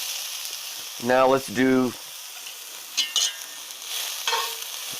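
Browned gyro meat sizzles steadily in a pan for a Greek-style spaghetti squash dish, a constant hiss running beneath a nearby voice talking.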